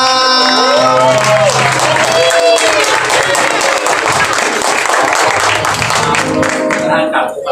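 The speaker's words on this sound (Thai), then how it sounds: "ปรบมือมา" Wedding guests at a Thai ceremony applaud the bride and groom, a loud, dense wash of clapping and crowd noise, with a master of ceremonies talking over it and a held musical tone running underneath.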